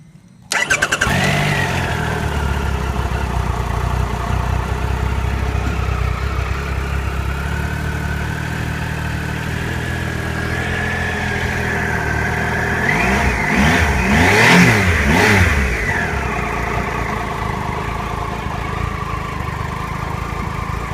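A 2013 Triumph Trophy SE motorcycle engine cranks and fires up close, settling into a steady idle before a burst of revving rises and falls midway, then returning to a smooth idle with no talking.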